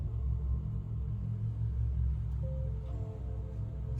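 A Porsche Taycan electric car accelerates with a low, steady rumble from inside the cabin, a faint rising electric tone emerging near the end.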